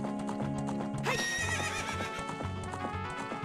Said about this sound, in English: Look at my horse, guys. She's so beautiful.